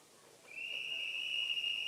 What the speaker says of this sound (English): So, whistle blast coming up here